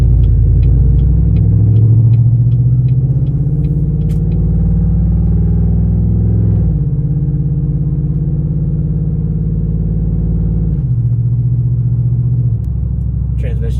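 Loud, deep exhaust rumble from a Chevrolet LTZ, a steady low drone that swells and shifts pitch around the middle and again near the end, with brief clicks over it.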